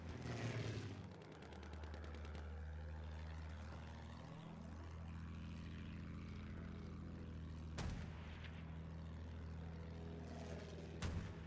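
Propeller attack plane in the WWI shooter Battlefield 1 on the Sinai Desert map, a steady droning engine hum throughout with sharp gunfire bursts near the end and no talking.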